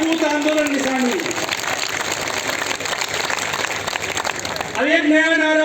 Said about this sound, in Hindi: जोरदार तालियां पीछे ले ले।